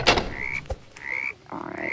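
Frogs croaking in the Roblox game 99 Nights in the Forest, several rising croaks in sequence with a few thuds, fairly loud and close.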